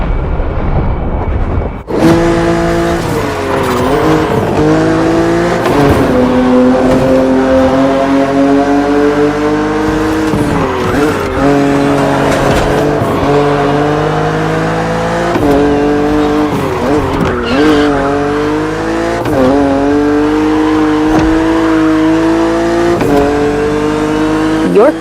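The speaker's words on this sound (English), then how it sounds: "Your car is the Z4 E89, a very cool model" A BMW Z4 E89 coupe cabriolet in a racing video game, its engine droning and revving loudly and steadily with rising and falling pitch through gear shifts, plus brief tire squeals, continuous after a short quiet start.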